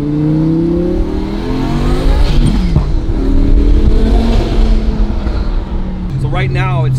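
A rebuilt, roughly 1,000-horsepower Lamborghini Murcielago driving down a street, its loud, close engine revving up through rising and falling pitch sweeps before a sharp shift near the end.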